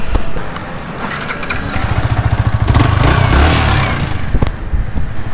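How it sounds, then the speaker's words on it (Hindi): A motorcycle with a badly damaged exhaust revs loudly and close by, making a rough, pulsing roar that swells in the middle and then eases off. "एक बार मेरे एग्जॉस्ट का साउंड सुना देता हूँ"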